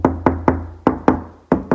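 Knocks on a light, hollow standard interior door give seven loud, close raps in an irregular rhythm, resonant and boomy, with no voices.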